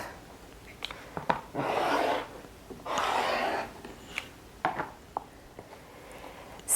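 Scissors or a rotary cutter slicing through quilting cotton along a ruler for a fall table runner, two sustained rasping cuts each lasting about half a second to a second, close and moderately loud, separated by faint light handling clicks.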